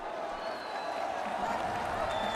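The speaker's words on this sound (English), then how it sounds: "you hear the crowd getting wild" Crowd cheering and applauding at the Fortnite FNCS Major 1 Summit finals, a dense continuous roar of a large audience filling the space, with voices blended into the din.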